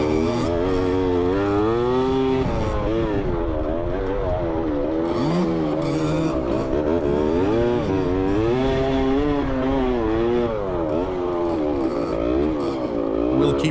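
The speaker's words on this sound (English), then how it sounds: "Our dirt bikes don't have headlights, and we still have about 25 kilometers to ride home." Dirt bikes riding home on roads in Sri Lanka, engines droning steadily and close with rising and falling revs as the riders shift and accelerate, no talk over them.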